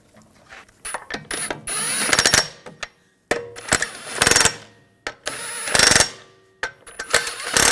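Lug bolts being run down on a BMW 550i front wheel with a ratchet, rapid clicking bursts in repeated spurts separated by brief pauses, close and clear with no talk.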